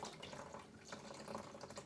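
Hop-soaked water being pressed out of wet hops with a tuna tin during home brewing of a super hoppy IPA, a faint wet trickling and dribbling with soft squelches, close by.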